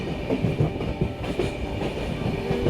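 A passenger train runs on its tracks on the way to Jasidih Junction, with a steady rumble and rhythmic clickety-clack of wheels over rail joints, heard from inside the carriage without talk.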